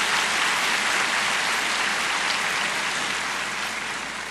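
Sustained applause from a large crowd at a church conference, dense and steady throughout, fading slightly at the end.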